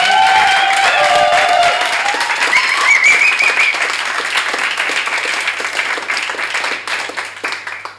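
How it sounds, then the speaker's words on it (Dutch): Loud, sustained applause and clapping from the audience for the participants at a poetry slam in Leeszaal West, Rotterdam, with some whistles and cheers early on, filling the whole stretch before tapering slightly at the end. "wil ik sowieso een daverend applaus!"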